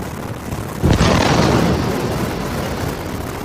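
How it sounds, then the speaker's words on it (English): A missile fired from a drone strikes a boat, setting off a sudden loud blast that bursts in all at once and then rumbles on as a sustained, roaring wash of noise. "The missile slams into the vessel. The explosion is instant, violent, and consuming."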